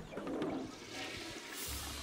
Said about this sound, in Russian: Надо спустить воду.